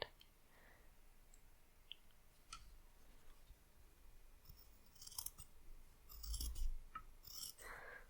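Scissors snipping hair during a rough haircut before dyeing: quiet, crisp clusters of close snips and clicks, scattered across a soft background hiss, with no talking.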